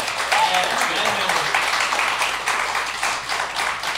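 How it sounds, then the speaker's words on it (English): Crowd applause for a band at a live concert fills the clip, even clapping from many hands, with a voice speaking briefly over it near the start. "A round of applause for them, please."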